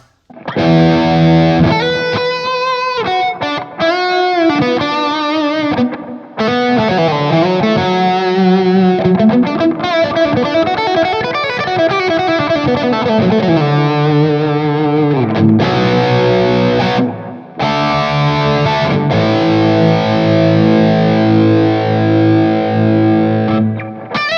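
Electric guitar played through a BluGuitar AMP1 with reverb and delay from a Caverns pedal, loud distorted chords and soaring lead lines with echoing tails, continuous for the whole stretch with a couple of brief pauses.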